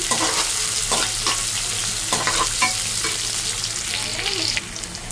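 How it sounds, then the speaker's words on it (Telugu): Chopped onion fries in green chili masala in a hot pan with a steady loud sizzle, broken by a few scraping stirs of a spoon. "కట్ చేసుకున్న ఒక ఆనియన్ అయితే వేసుకోవాలి. ఇది బాగా వేగాలి."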